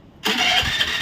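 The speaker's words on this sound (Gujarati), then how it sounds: "ગાડી ચાલુ કરી." A vehicle engine fires up close by. After a brief quiet it starts abruptly into a loud, steady running rumble.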